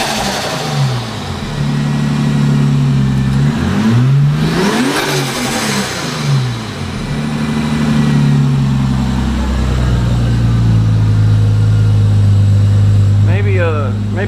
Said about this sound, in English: It's definitely getting more fuel. This thing's spitting and sputtering now.